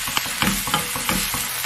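A cabbage and Spam pancake sizzles in an oiled pan as it is flipped: a loud, steady crackle broken by a few soft knocks and scrapes from the turner, with no talk.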